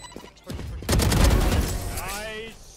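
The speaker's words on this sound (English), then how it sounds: "Grenade!" A grenade goes off in a competitive video game match: a loud, broadband blast with a rumbling tail that lingers for about two seconds, followed by a player's voice.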